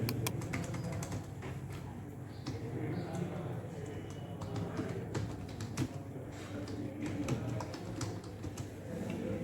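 Computer keyboard typing in MS Word 2007, a steady patter of quick key clicks running throughout, fairly faint beneath a low background hum, with a voice speaking at times.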